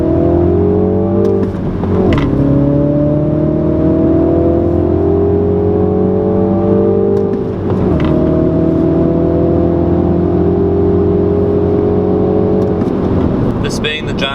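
A 2016 Mini Cooper John Cooper Works with a 2-liter turbocharged engine accelerates hard from inside the cabin, its loud engine note rising through the gears with brief dips at each shift, steady and droning throughout.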